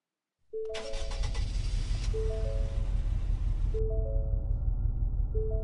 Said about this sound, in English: we're just going to do a cold start and see how it sounds